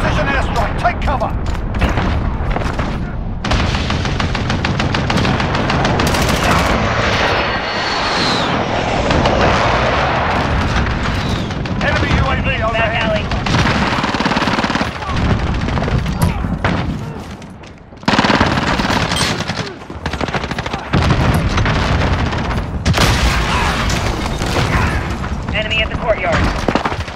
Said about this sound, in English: Enemy cruise missile incoming. Enemy precision airstrike. Take cover.